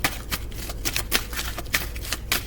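Playing cards are shuffled up close, a quick series of riffling bursts in an uneven rhythm, with no voices.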